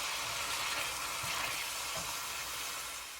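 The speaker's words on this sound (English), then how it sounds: "mix the meat with the vegetables" Steak, meat and vegetables frying in a hot pan for steak bomb sliders, a steady loud sizzle with soft scraping as the mixture is stirred together.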